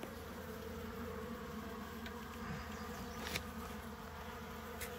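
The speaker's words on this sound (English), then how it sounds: "We have a couple of bees with us." A few bees buzz steadily close by inside a vehicle during the drive home after a bee cutout job, with the low hum of the road underneath and no talk.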